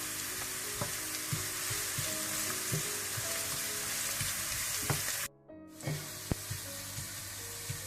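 Onions browning in desi ghee for degi chicken biryani, a continuous close sizzle with occasional stirring clicks and a brief dropout partway through.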